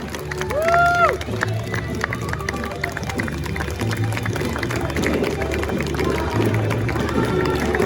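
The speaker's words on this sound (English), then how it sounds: "Keep the clapping going to the beautiful bridesmaids and the handsome groomsmen." Wedding guests clapping for the bridesmaids and groomsmen as a steady, dense wash of applause and crowd noise that runs throughout, with an announcer's amplified voice speaking over it.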